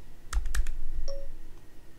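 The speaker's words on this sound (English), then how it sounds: "I will activate the speak function here by double clicking the function key." A function key on a Mac keyboard is pressed in a quick burst of sharp, close clicks near the start, followed by a brief soft electronic tone.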